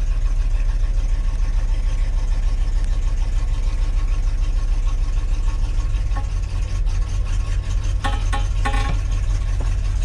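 A Ford high-boy truck engine idles steadily after a cold start, a loud, low, continuous rumble with a slight uneven knock and a few faint clicks near the end.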